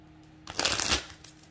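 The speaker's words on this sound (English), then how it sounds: "I'm going to just shuffle this real quick." A deck of tarot cards is shuffled once, a short close riffling burst of papery flutter lasting about half a second against near silence.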